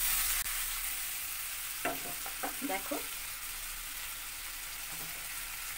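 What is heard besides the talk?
salted hilsa fish pieces frying and flipped in a shaken pan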